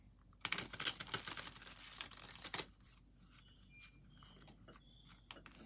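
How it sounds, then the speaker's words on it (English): A thick deck of cards is shuffled up close, a dense riffling and crinkling burst lasting about two seconds, followed by quieter scattered taps and card handling. "So many cards in this deck. It's pretty hard to shuffle,"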